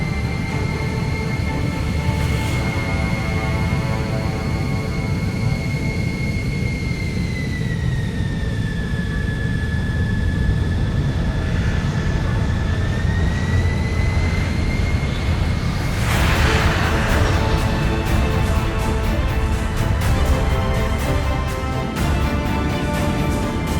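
Airliner cabin during takeoff roll, a loud steady jet engine roar with a whining tone that dips and rises, building into a heavier surge partway through, heard from inside the plane.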